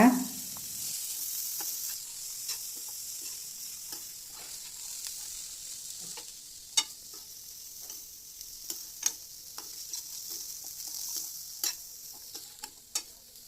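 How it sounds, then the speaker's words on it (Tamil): Boiled black-eyed peas being stirred into seasoning in a pan for karamani sundal, giving soft scraping stir sounds and a faint sizzle, with scattered sharp clicks of the spoon against the pan. "தட்டாம்பயிரை சேர்த்து நல்லா ஒன்றா கலந்து விட்டுக்கோங்க."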